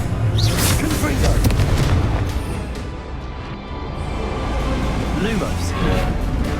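Confringo fire-blast spells explode in Hogwarts Legacy, a loud dense barrage of booming bursts filling the whole stretch, with game voices and effects mixed in.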